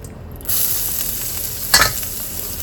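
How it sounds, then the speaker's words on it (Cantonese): Minced garlic and ginger hit hot rendered bacon fat in a wok, giving a steady bright sizzle with a sharper burst of spatter and stirring partway through, close and with no talking. "蒜蓉、薑蓉落去起鑊，因為 bacon 呢有好多油喺度，唔使再放油噶啦。"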